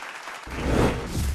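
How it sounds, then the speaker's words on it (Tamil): An audience at a Tamil speech forum applauds after a talk, with a broad burst of clapping that starts abruptly and keeps going steadily throughout. "ஒரு உற்சாகமான கைத்தட்டல் கொடுங்க"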